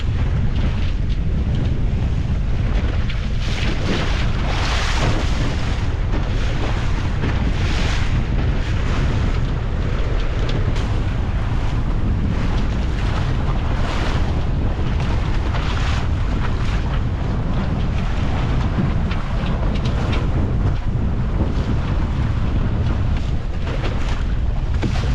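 A reefed sailboat beats into a strong headwind near the mouth of the heads. Heavy, constant wind buffets the microphone over rushing water and waves for the whole stretch, with no talking.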